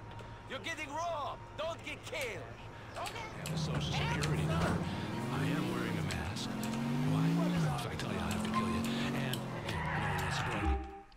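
Car driving in Grand Theft Auto IV, an engine revving and droning with shifting pitch and some tyre noise, with someone talking over it.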